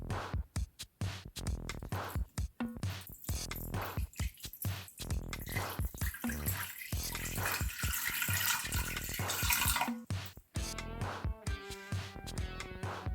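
Water is poured into an Instant Pot 6-quart pressure cooker, a continuous splashing, gurgling flow lasting over ten seconds with a few brief breaks, close and fairly loud.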